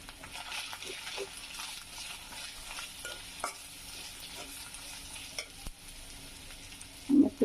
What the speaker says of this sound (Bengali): এখন আমি হলুদের গুঁড়া, মরিচের গুঁড়া, ধনিয়ার গুঁড়া একসাথে মিক্স করে আমি দিয়ে দিলাম।